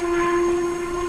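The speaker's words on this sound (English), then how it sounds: "which has a lovely whistle which sounds like this" A steam whistle sounds from Mervyn Emrys, a Ffestiniog Railway narrow-gauge locomotive in a train simulator: one steady, loud, continuous tone with a breathy hiss, held for about a second.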